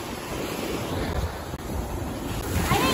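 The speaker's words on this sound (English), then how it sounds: "It's just waves." Ocean waves break and wash up on a beach, a close, loud surging roar of surf with heavy wind buffeting the microphone throughout.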